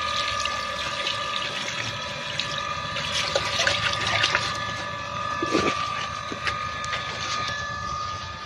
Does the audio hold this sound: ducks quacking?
no